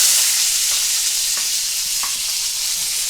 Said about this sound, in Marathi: आता वाटाणा भाजण्यासाठी मी तेलामध्ये टाकून घेते.